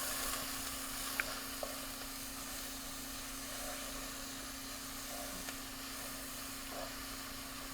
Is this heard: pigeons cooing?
no